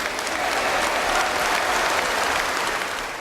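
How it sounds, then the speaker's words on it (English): SNP supporters applaud at a party gathering, a dense, even wash of many hands clapping together that holds steady throughout and trails off slightly at the end. "Supporters applauded."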